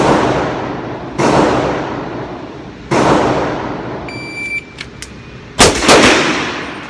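Three loud, well-spaced gunshots from a Sig Sauer .357 pistol during a shooting run, each sharp crack trailing off in a short outdoor echo.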